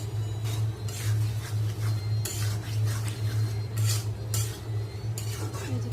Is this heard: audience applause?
no